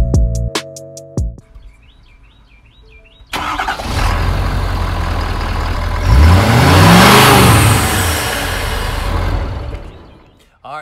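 A 2017 Ford 6.7 Powerstroke pickup's diesel engine, fitted with a No Limit Fab Stage 2 air intake, cranks and roars to life after a few mechanical clicks, then revs up loudly and settles back, up close.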